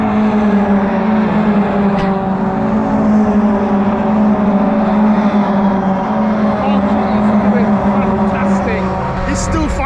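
Ginetta Junior race cars lapping the Brands Hatch circuit, a steady loud engine drone with sustained harmonic whine throughout, under continuous commentary.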